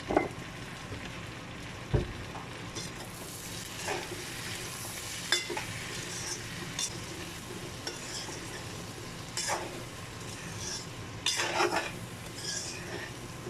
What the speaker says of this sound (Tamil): நல்லா போட்டு மிக்ஸ் பண்ணி விடுங்க